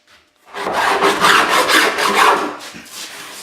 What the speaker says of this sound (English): inside here I normally file off, or you can get your block and your sandpaper